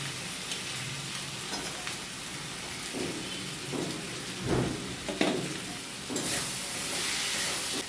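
Ginger, garlic and chili paste fries with chopped onion in a pan for egg dalna with mukhi kochu, giving a steady sizzle broken by several sharper bursts as the mixture is stirred.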